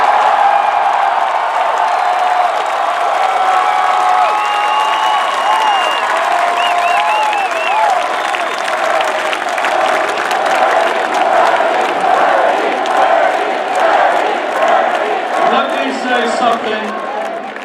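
An enormous crowd at a 2019 Bernie Sanders campaign rally in Los Angeles claps and cheers loudly and continuously, with whoops and shouts rising over the sustained applause.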